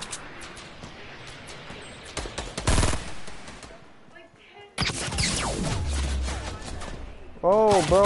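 Rapid bursts of automatic gunfire in an online multiplayer shooter game, loud and close, with clustered volleys broken by brief pauses and a sharper burst near the end.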